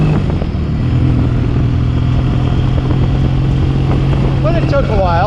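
A rebuilt vintage motorcycle engine idles steadily and loud up close, a constant low rumble running throughout with brief clatter, while a person talks over it.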